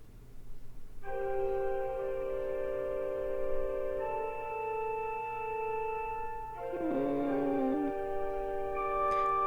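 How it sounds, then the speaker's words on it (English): Sustained organ chords from the video game Kentucky Route Zero ring out, held long and steady, then shift to a new chord near the end; moderately quiet with a faint background hum. "If you are hearing organ music"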